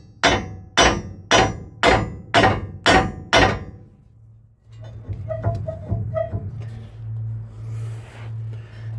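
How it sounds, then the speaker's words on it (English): A hammer strikes a stuck key on the bar of a Duramax LMM truck: seven sharp, evenly spaced metallic blows, followed by quieter tapping and a low mechanical hum. "Maybe just hit it with a hammer a couple of times."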